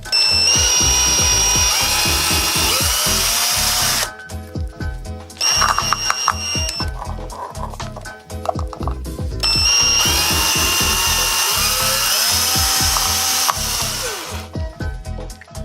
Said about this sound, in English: Then I marked the places where the holes should be drilled